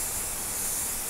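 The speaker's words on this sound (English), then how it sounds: "I usually spray the batting." Adhesive spray hisses steadily onto quilt batting, a close, continuous airy spray that holds evenly through the whole moment with no talk.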